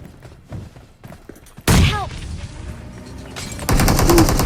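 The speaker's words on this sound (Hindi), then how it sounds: "अभी रिकॉल से एक बंदे के फायरिंग का साउंड आता है यहाँ पे" Enemy gunfire rattles in a first-person shooter battle, loud bursts and single shots crowding together, with a heavy thump midway and a denser volley closing out the stretch.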